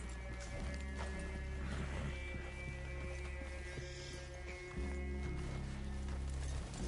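Horses in Red Dead Redemption 2 moving over a continuous low rumble of ambient game sound, with hoofbeats and a brief whinny-like tone mixed in at moderate level and no talking.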